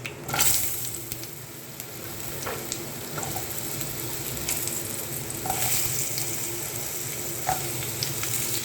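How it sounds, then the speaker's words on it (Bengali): Potatoes and onions fry in a pan, giving a soft continuous sizzle with occasional light clicks and stirring sounds, fairly quiet and close, with no talk. "আলু পেঁয়াজটা একেবারে ভেজে নেব"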